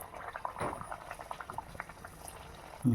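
Hot oil heated on medium bubbles and crackles in a pan for frying kajjaya, a steady close sizzle with small popping bursts throughout, ending in a brief louder knock.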